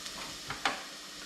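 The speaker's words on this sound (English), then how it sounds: "I'll just flip them around in there and just give them a quick sear" Peeled yabbies sear in a really hot pan with salt and pepper, giving a steady close sizzle with a few soft stirring scrapes and one brighter pop as they are flipped.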